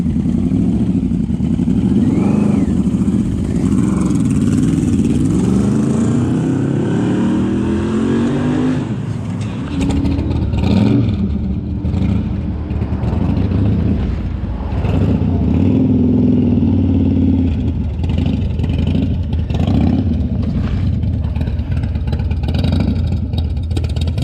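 A classic BSA A10 motorcycle engine roars steadily while riding out on the road, loud and close, rising and falling through revs and gear changes, with wind noise throughout and no talking.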